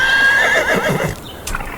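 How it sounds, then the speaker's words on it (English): A horse whinnies loudly up close with a long, wavering neigh, followed by a few soft hoof clip-clops as it fades at the end. "I brought my horse nearly."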